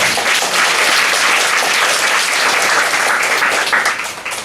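A church congregation at a Saturday worship service applauds together, a dense, steady wash of clapping that fades slightly toward the end.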